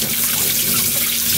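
Tap water runs steadily over a cutlassfish being rinsed by hand in a sink, a close, continuous splashing gush with no talk.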